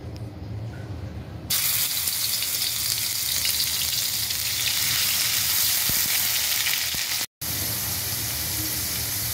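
Onion paste and mustard paste dropped into hot oil in a karahi, bursting into a loud, steady, close sizzle that holds for several seconds and briefly cuts out near the end.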